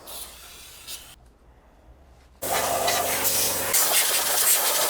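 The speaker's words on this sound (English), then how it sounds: "And now let's spray brake cleaner everywhere." Brake cleaner blasts in a loud, steady aerosol hiss across a V8 BMW E39 M5 engine during a service. A quieter stretch of work noise and a brief pause come first.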